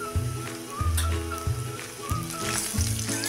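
Onion and turmeric sizzle loudly in hot oil in a pan for Islampur-style poha misal, a steady crackling hiss broken by several dull stirring bumps, with no voice over it.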